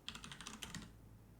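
Rapid, light clicking of a computer keyboard being typed on, about a dozen close keystrokes in under a second, then quiet.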